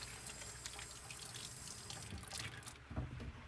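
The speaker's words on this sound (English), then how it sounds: "Put this in the sink. Wash my hands again because I touched that bacon." Tap water runs steadily into a kitchen sink while hands are washed, a continuous splashing hiss with small drips and shifts in flow, close by and without talk.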